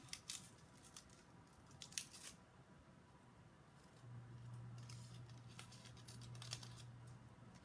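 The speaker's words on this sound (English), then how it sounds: "we're going to cut this curve and this little curve right here, about 3/4 of the way down." Scissors cutting curves into crepe paper for craft flowers, with soft close snips and paper crinkles at the start and a low steady hum underneath later, with no talking.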